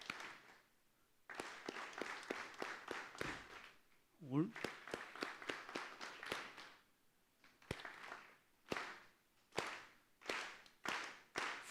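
A TEDx audience claps palms together in unison, with a quick run of sharp claps speeding up, then slower, louder spaced claps, while a voice briefly speaks between them.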